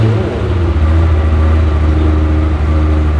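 A Ferrari 355's five-valve V8 runs loud and close, holding a steady, deep rumble with slight wavering in pitch throughout, and no talking over it.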